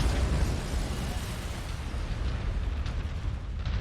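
Mech weapons firing in MechWarrior 5: a dense, continuous roar of booming blasts and bursts merging into one heavy, loud barrage with low rumble throughout.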